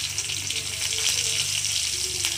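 Green chilies sizzling as they fry in a pan, a steady bright crackle and hiss, close and continuous with no talk.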